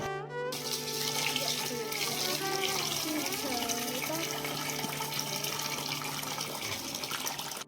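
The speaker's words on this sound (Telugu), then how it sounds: "ఇప్పుడు నేను వాటర్ పోసి నానబెడతాను" Water runs steadily from a tap into a container of semolina to soak it, a continuous splashing fill that lasts throughout, fairly close, with no talking.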